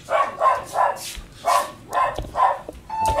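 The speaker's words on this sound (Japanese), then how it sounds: "吠え方がすごいよね。" A dog barks repeatedly nearby in a kitchen while food is being deep-fried, sharp rhythmic barks roughly every half second, loud and close, with a few higher yips mixed in toward the end.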